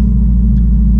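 A 2017 Volkswagen Golf R engine rumbles with a deep, loud, steady drone from inside the car, lasting about a second.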